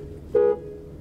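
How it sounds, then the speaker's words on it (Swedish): A single short car horn toot, moderately loud and close, sounding once for about a quarter second against quiet background. "Tuta på han så han kom ut."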